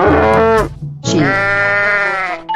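In a 3D animal game, a sheep bleats twice, loud and near: a short wavering bleat, a brief gap, then a longer drawn-out one.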